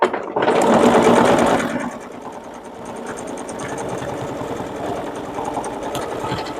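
A sewing machine hums and rattles at speed while free-motion quilting wavy lines with a number 9 foot and no stitch regulator, loud and close at first, then easing to a steadier, quieter run.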